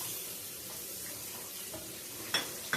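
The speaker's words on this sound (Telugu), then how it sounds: "ఈ ఎగ్స్ బాగా గోల్డెన్ కలర్ లో వచ్చేంత వరకు ఫ్రై చేసుకోవాలండి." Eggs fry in spiced oil with chilli powder and salt for a Hyderabadi egg masala curry, giving a steady close sizzle broken by a couple of sharper spatters or utensil clicks near the end; no one speaks.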